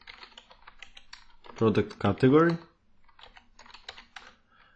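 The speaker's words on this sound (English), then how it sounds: "And now I can start typing." Light clicking keystrokes on a computer keyboard tap faintly before and after a short burst of speech while text is typed in a dashboard tool.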